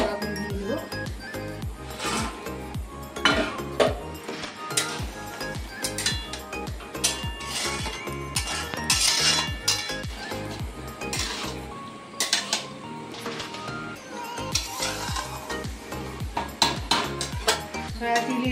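Soya chilli pakoras go into gravy in a pan and get stirred: continuous metallic scraping, clinks of a spoon against the pan and a light sizzle, steady and close throughout.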